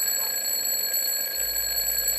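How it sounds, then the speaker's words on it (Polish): An alarm clock rings continuously, a shrill steady electronic tone with high harmonics that holds loud and unbroken from start to end, with no voices. "Zegar mi dzwoni."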